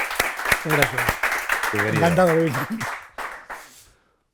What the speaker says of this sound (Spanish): me gustaría que un aplauso para Jorge